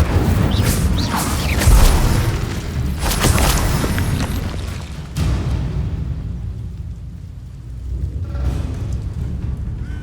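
The Incendio fire spell cast in Hogwarts Legacy produces a loud, continuous roaring whoosh with deep rumbling booms that swell and ebb, filling the whole stretch without pause.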